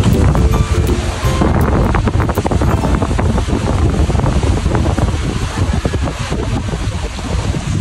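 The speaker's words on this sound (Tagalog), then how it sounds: "Kahit malakas ang hangin." Strong wind buffeting the microphone in loud, continuous gusts at a beach campsite, with a rushing roar like surf underneath and no voices.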